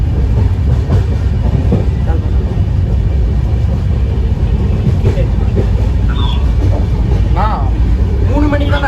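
A train rumbles past with steady low clatter and brief squealing tones, while people talk nearby over the noise.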